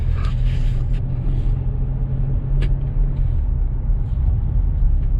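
An RV rumbling as it pulls out of a park, a loud, close, steady low engine and road drone with a brief air-brake-like hiss.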